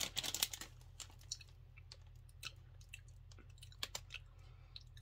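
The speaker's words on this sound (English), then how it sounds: "you have to chew it a lot." Crunchy chewing of Quest protein ranch-flavored chips, close and quiet, with a dense burst of crisp crunches at the start and then scattered sharp bites and clicks over a low steady hum.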